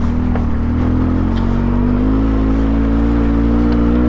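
The engine of a Polaris Sportsman 700 ATV hums loudly and steadily close by as it crawls over rocks, its pitch rising slightly partway through as the rider works the throttle.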